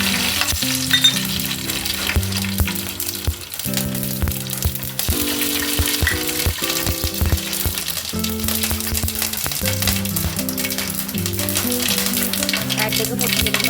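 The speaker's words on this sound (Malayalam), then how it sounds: "വെളിച്ചെണ്ണ ചൂടായി വരുമ്പോൾ ഇതിലേക്ക് കടുക് ഇട്ട് കൊടുക്കാം." Mustard seeds sizzle in hot coconut oil in a pan for a Kerala-style fish curry, a steady hiss running throughout beneath continuous background music.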